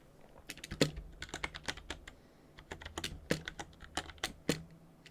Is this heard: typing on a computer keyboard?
yes